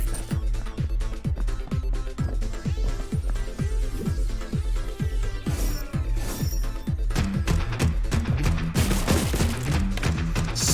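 Grenade blasts and gunfire in the video game Neon Abyss: rapid, punchy shots and thuds ring out steadily over loud, rhythmic game music, growing busier toward the end.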